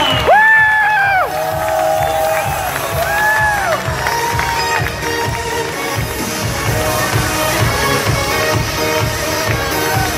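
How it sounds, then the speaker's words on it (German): A crowd cheers, whoops and claps for a solo cyclist finishing the Race Around Austria 2019, over loud music with a steady beat and some tonal sounds near the start. "das ist ein Applaus!"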